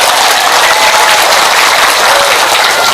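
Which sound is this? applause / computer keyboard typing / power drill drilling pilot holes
applause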